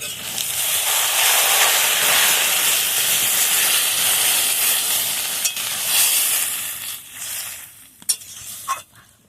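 Taro and water spinach being stirred in a cooking pot, a loud steady sizzle and hiss with scraping, tapering toward the end into a few sharp clinks of the utensil against the pot.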